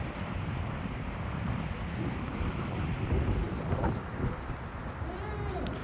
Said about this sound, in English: The wind is picking up slowly,